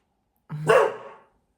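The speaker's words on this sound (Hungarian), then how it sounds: "Ha valakit érdekel, hogy mi ez a hang itt mögöttem, az a kutya" A single dog bark rings out close by, short and sharp, followed by a brief fading tail, with silence on either side.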